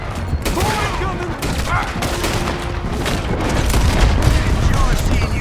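Gunfire in a Red Dead Redemption 2 shootout: dense, continuous bursts of shots and booming blasts fill the scene while voices shout over the fighting.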